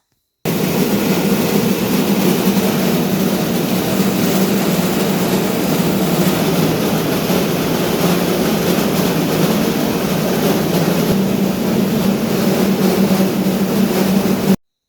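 A rice mill grinds unhusked palay with a steady, loud mechanical roar and hum that runs unbroken throughout, with no talking over it.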